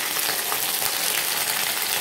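Potatoes and vegetables for shukto fry in a pan with a steady, dense sizzle that holds evenly throughout, close and fairly loud.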